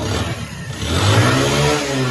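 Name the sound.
motorcycle engine started and revving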